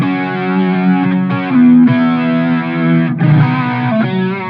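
Electric guitar played through plate reverb, overdrive and chorus, loud sustained chords that change a few times and ring with a shimmering, slightly distorted tone.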